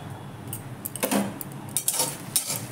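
A spoon stirring whole cardamom and cinnamon in a metal pan, giving a few light scraping clinks and rattles, close and fairly quiet, with no talking.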